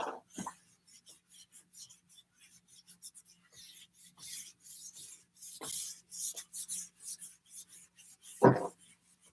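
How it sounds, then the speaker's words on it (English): Eraser rubbing across a classroom board in a series of brisk scraping strokes, fairly close, with a louder swipe near the end and no talking. "So I'm going to erase all of this right"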